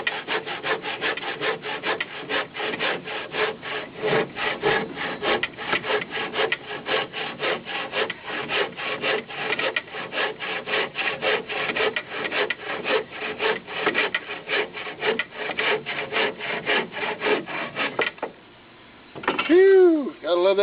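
Hand saw cutting a chunk off a beech wood block clamped in a vise, steady rhythmic rasping strokes for about eighteen seconds, then a brief clatter as the piece comes free.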